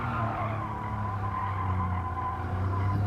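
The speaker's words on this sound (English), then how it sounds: "That's scrubbing the tyres a fair bit." Tyres scrub and squeal continuously on a Porsche 911 Carrera RS 993 cornering under heavy steering lock at Tsukuba in GT Sport, a steady loud skid over the engine's drone for the whole stretch.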